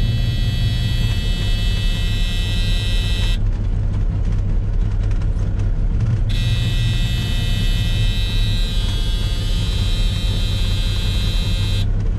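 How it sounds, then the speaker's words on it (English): A dump bed alarm on a Peterbilt 359 truck buzzes in a loud, steady high tone over the engine's low idle rumble. It cuts out for about three seconds in the middle, then resumes, close by. "That's my video on the dump body alarm."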